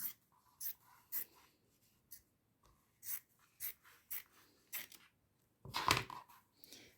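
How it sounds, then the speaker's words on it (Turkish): Scissors cut through a folded fabric circle for a sewn face mask: a series of short, crisp snips at an uneven pace, close and fairly quiet, with a louder burst of cutting near the end and no talking. "İz yaptığım yerden makasımla kesiyorum."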